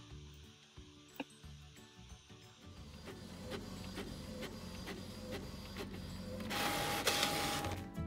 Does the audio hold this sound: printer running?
yes